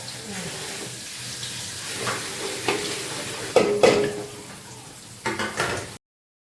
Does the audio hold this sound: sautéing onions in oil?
yes